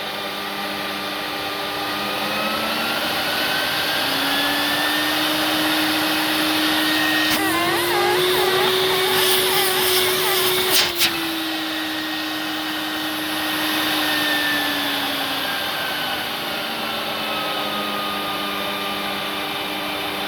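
A Vax Powa 4000 vacuum cleaner, an old scrap unit with no bag or filters, runs steadily throughout with a loud, continuous motor whine. The pitch rises and falls as the variable suction is adjusted, peaking midway.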